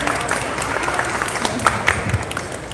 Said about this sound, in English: big round of applause to the staff